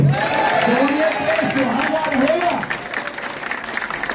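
An audience at an E-Biotorium product launch claps in a steady mass of applause while a speaker's voice runs over it, the clapping tapering slightly toward the end.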